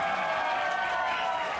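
Audience applause for drama performers from Rawalpindi at a stage show in Sargodha, a dense, steady wash of crowd clapping that runs loud and unbroken throughout.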